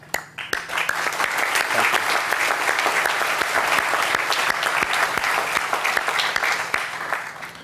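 Sustained audience applause at an outdoor-style civic groundbreaking ceremony for a parkway extension, many hands clapping densely and steadily for several seconds before tapering off, with no talking over it.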